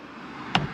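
A Honda Accord sun visor snaps into its mount as it is installed, giving one short, faint click over low background hiss.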